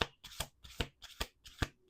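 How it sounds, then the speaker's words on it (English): Cards being riffle-shuffled up close, several quick bursts of riffling fluttering in a steady rhythm, with no talking. "Let's do 2 more shuffles."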